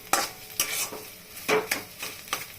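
Egg and cauliflower frying in oil for bhujia, stirred together in a pan: a steady sizzle broken by several distinct scraping stir strokes at irregular intervals, close and fairly clear with no voices.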